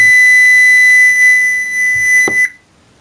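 A steady high-pitched electronic beep from a UNI-T UTM 171A multimeter continuity test holds for about two and a half seconds, loud and close, then cuts off abruptly into quiet.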